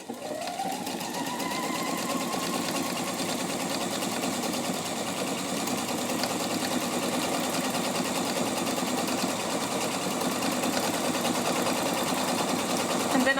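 A Pfaff 720 sewing machine runs steadily, stitching floating decorative stitches on fabric, a close, continuous motor whir with rapid needle clatter that picks up speed at the start and holds without pause.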